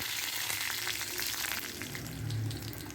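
Curry leaves, a few dried red chilies and a small lump of tamarind fry in a little oil in a kadai, giving a steady, close, even sizzle with a light crackle throughout and no talking.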